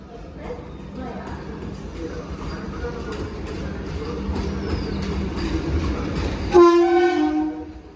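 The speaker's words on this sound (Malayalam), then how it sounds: "അപ്പോൾ അതേ വന്ദേ ഭാരത് ഇങ്ങനെ വന്ന് കയറണം" A Vande Bharat train rumbles into Ernakulam Town station, its rolling noise building steadily before a loud, sustained horn blast near the end, with someone talking over the approach.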